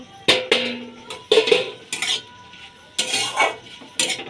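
A cooking pot's lid comes off after the contents have been covered and simmering about ten minutes in a home kitchen, giving several sharp metallic clanks and clatters spaced over a few seconds, close by with no talking.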